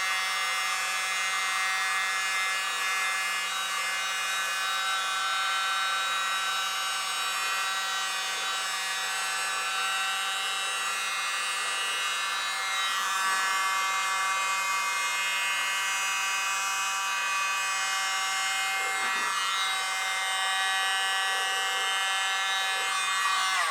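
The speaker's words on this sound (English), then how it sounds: "And the world's smallest blower." A tiny electric blower runs on fluid acrylic paint, producing a steady, close, high buzzing whine that holds unbroken throughout with no speech.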